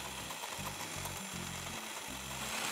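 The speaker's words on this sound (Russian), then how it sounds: "сначала немного взбиваем. На не очень высокой скорости. Потом постепенно увеличиваем скорость." An electric mixer whips cake ingredients at low speed, a steady motor whir with low chugging pulses as the beaters turn through the batter, close and constant.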